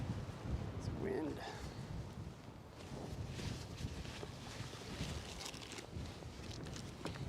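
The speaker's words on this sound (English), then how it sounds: "It's wind." Wind buffets a microphone outdoors at Kilauea volcano in Hawaii Volcanoes National Park at sunrise, a steady low rumbling roar with gusty swells that persists through the whole stretch, with no talk.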